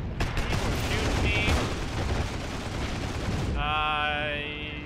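Heavy, continuous gunfire on a World War II battlefield in Heroes and Generals, a dense roar of shots and blasts, followed by a shrill tonal sound near the end.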